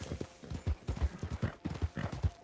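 Horse hooves clip-clop at a steady trotting rhythm in the Red Dead Online video game, up close and fairly loud, with no talking over them.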